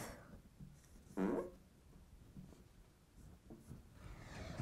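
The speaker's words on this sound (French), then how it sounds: "je vais écrire sens figuré" Marker or chalk writing on a classroom board, a single brief scratchy stroke around the one-second mark, close and moderately loud, with faint room noise and soft breathing around it.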